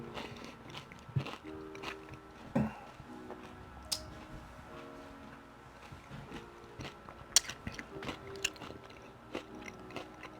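Flamin Hot Doritos chips are bitten and chewed close up, with scattered sharp crunches over a quiet background and no talk.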